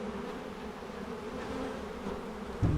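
Honeybees buzzing around an open, well-populated hive during an early-year inspection, a continuous low droning hum from many bees, close and steady, with a brief knock near the end.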